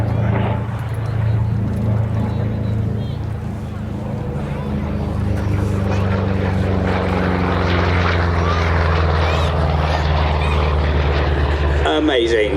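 A P-47 Thunderbolt warplane roars through a low topside pass at an airshow, a loud continuous propeller drone whose pitch slowly shifts as it passes, while an announcer talks over it.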